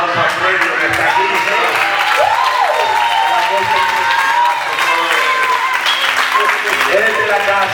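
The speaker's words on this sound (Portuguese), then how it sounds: "Y un aplauso a Freddy, que está aquí." Church audience applauding a guest named Freddy during a service, a dense sustained clapping from a crowd that continues throughout with some voices mixed in.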